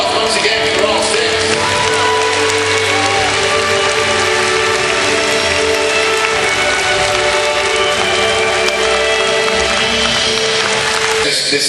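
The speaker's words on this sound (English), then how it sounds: "Round of applause once again for all six." Audience applause from a crowd fills the space as a dense, loud, steady wash of clapping, with a few whoops and shouts mixed in.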